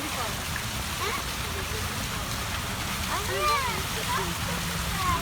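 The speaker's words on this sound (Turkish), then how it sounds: "Şurada şöyle güzel bir şelalemiz var." A waterfall in a park on the Haliç shore in Istanbul makes a constant rushing roar, with faint chirps and voices from passers-by over it.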